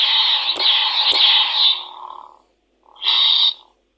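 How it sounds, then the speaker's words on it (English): Toy lightsaber from Temu giving its electronic flash-on-clash effect: two sharp clash hits over a loud, steady synthetic hum, then a brief separate burst of the hum after a short silence, heard alone. "At least it has the sound of the clash when it does flash on clash."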